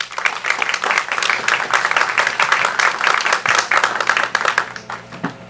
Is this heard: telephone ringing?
no